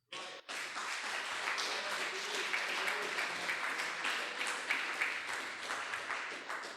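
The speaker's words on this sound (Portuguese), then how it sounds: "Vamos aplaudir ao Senhor." Church congregation applauding together, a dense sustained clapping that starts abruptly and holds steady for several seconds, moderately close with a faint voice underneath.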